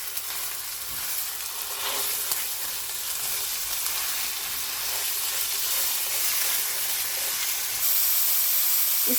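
Chicken mince and garlic sizzle steadily in a hot pan, a continuous loud frying hiss with occasional stirring, no talk over it.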